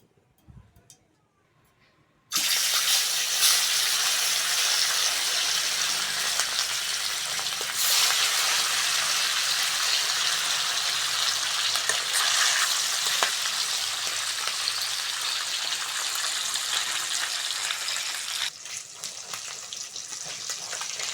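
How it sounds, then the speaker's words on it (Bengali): Silver carp pieces hit a hot frying pan with a sudden burst of loud sizzling that continues as a dense, crackling hiss for a long stretch, close up, with occasional stirring pops. "প্রথমে মাছটা ভেজে নেব"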